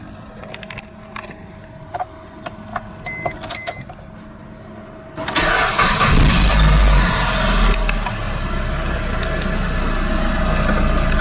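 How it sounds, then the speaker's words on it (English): A 2011 Suzuki Grand Vitara 2.4 JLX fires up via the ignition switch after a quiet cabin with faint clicks, then a sudden loud burst into steady, close engine running that continues to the end. "Put the foot on the brake and twist the ignition switch."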